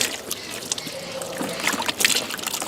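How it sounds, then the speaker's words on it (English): Running water splashes and trickles while trout fillets are rinsed, a close, steady gurgling flow with irregular spattery bursts. "Rinse this all off."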